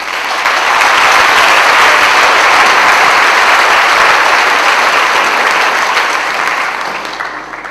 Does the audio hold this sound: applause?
yes